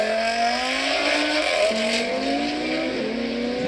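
An electric Audi or VW race car runs on the Horse Thief Mile track, its motor whine climbing in repeated rising pitch sweeps with a continuous broadband rush and no talk.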